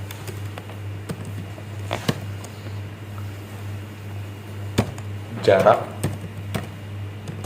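Scattered clicks from someone typing Arduino code on a computer keyboard for an HC-SR04 ultrasonic sensor project, a few isolated taps and then a quick cluster of keystrokes, while someone speaks over a steady low hum.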